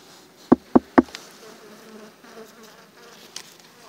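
Three sharp knocks on a wooden beehive in winter are followed by a soft, low hum of bees buzzing inside, faint and steady after the taps.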